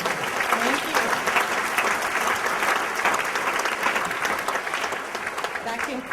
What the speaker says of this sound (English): A round of applause for our members of the media.